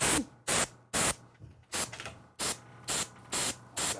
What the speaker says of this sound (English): Will you spray the airbrush a little bit?